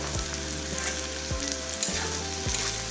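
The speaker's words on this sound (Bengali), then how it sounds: "এখন আমি এর মধ্যে দিয়ে দিচ্ছি কাঁঠালের বীজগুলো।" Jackfruit seeds drop into a pan of frying potato and eggplant, a loud steady sizzle with several spatula scrapes repeating every half second or so.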